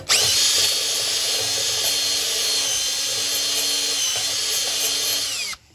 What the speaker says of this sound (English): I'm just going to hit this with a wire wheel where I'm going to be welding